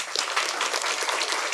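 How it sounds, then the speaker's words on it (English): An audience applauds a speaker at a talk, dense steady clapping from many hands throughout, close and even. "he deserves another round of applause"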